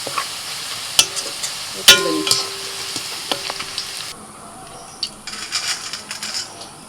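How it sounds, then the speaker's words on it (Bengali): Potatoes frying in hot oil in a pan, a bright continuous sizzle broken by sharp metal clinks and scraping from a spatula, with the sizzle dropping away partway through. "ওই তেলের মধ্যে দিয়ে দিচ্ছি আলু আলুটাকে একটু লাল লাল করে ভেজে"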